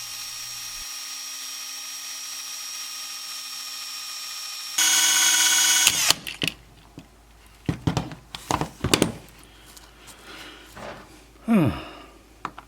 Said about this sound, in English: We're going to start by just drilling out the rivets